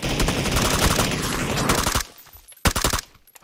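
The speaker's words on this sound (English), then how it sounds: "Oh, scared of that shotgun, bro." Shotgun fire in a video game, a dense loud barrage of blasts for two seconds, then a brief pause and another short burst of shots.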